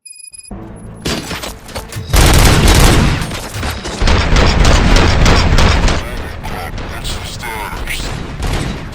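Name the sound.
gunfire in the video game Robocop Rogue City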